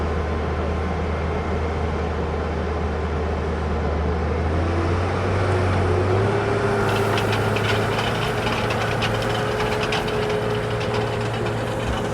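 A tractor engine runs steadily with an Einböck Taifun 600 cultivator, a continuous loud diesel drone that swells slightly partway through as clattering noise rises alongside it.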